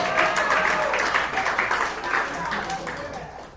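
A comedy club audience at the Icehouse breaks into dense clapping with cheering voices mixed in. The applause stays loud and close, then gradually thins out over a few seconds.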